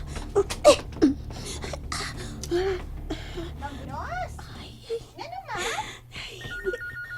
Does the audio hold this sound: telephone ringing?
yes